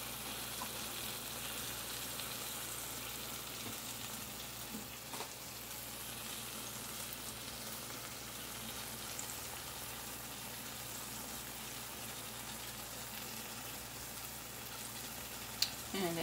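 Floured pork cube steak browning in a pan, a soft, even sizzle running steadily throughout, with a brief clatter of cookware near the end.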